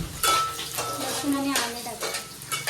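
Garlic drops into a hot pan of oil for a Manchurian gravy, setting off a steady close sizzle with stirring scrapes and utensil clinks against the pan, and no voices.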